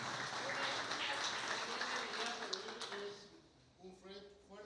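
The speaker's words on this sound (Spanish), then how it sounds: "Un fuerte aplauso para Raúl" Applause at a family business event in Caaguazú, a broad crowd clatter that holds steady for about three seconds, then fades as a voice begins talking over the tail.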